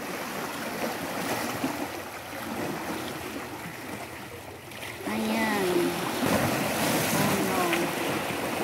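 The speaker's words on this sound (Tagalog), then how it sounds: "Panoorin natin yung alon. Ang galaw ng tubig." Ocean waves wash and surge onto a rocky shore at Hapmun Beach amid gusty wind, the rush swelling louder partway through; a voice speaks briefly.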